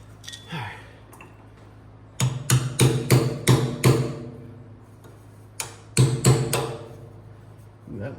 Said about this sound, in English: we got to bend these tabs over to lock these bolts